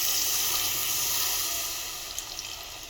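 Water poured into jaggery in a kadai for laddu, a steady close hissing pour that runs unbroken, easing slightly toward the end with a few small splashes.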